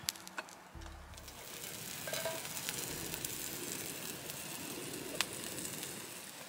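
Kebab meat sizzles over an open campfire at a wild camp, a steady crackling hiss with occasional small pops. Early on there is a low thump and a short tonal clatter.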